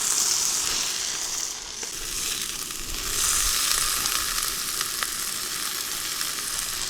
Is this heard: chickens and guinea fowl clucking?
no